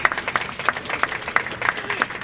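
Scattered audience clapping at a community gathering about refugee resettlement, moderately loud and irregular, with a voice speaking over it throughout.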